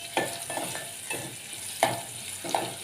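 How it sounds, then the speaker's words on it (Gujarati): Mango pieces being stirred in hot oil with cumin and asafoetida: a soft continuous sizzle broken by several sharp scraping clinks of the spoon against the pan, close and clear. "પછી આપણે નાખી દઈશું એની અંદર કેરીના કટકા. એને આપણે તેલમાં થોડીક વાર ફેરવશું"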